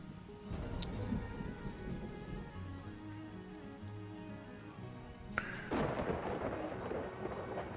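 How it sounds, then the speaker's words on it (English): Steady rain pours down in Farthest Frontier as thunder from lightning strikes rumbles low beneath it, and a sharp crack near the end brings a louder burst of storm noise. "That's 4 lightning strikes in this one area."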